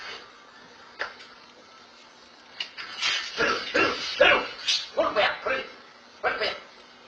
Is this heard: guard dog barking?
yes